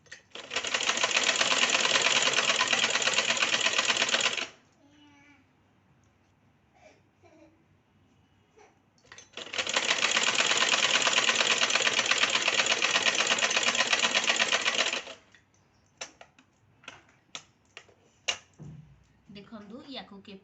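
A sewing machine stitches a katori blouse piece in two loud, steady bursts separated by a quiet pause with small handling clicks and some soft talk.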